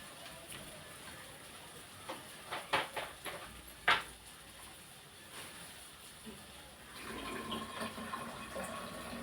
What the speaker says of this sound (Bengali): ফিল্টার থেকে একটু জল নিচ্ছি বোতলে